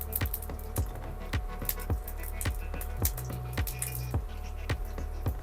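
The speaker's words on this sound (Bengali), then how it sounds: "কড়াইতে তেল দিয়ে দিচ্ছি, আর দিচ্ছি 4টে শুকনো লঙ্কা ফোড়ন, একটু ফাটিয়ে দেব" Four dried red chillies tempering in hot oil in a wok for a leafy greens dish: a soft, steady hiss punctuated by regular crisp pops and spits, close and moderately quiet.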